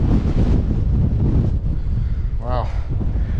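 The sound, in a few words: wind blowing on exposed hillside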